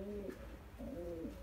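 Soft, throaty cooing of male racing pigeons, two drawn-out warbling calls separated by a short pause, fairly close and calm with no talking.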